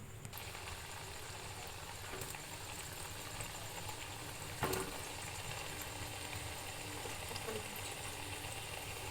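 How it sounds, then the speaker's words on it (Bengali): Sweet dumplings fry in oil on a gas stove turned low, giving a faint, steady hiss and soft bubbling that runs evenly throughout with no talk over it. "ভাজা হচ্ছে গ্যাস কমিয়ে"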